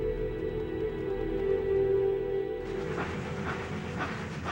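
A Pennsylvania Railroad passenger express rolls east along the rails, a steady low rumble of wheels and carriages that swells into brighter, noisier track clatter partway through.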